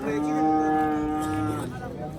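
Cattle at a livestock market in Uzbekistan: one long, deep, steady moo rises close by and then fades, with faint crowd murmur underneath.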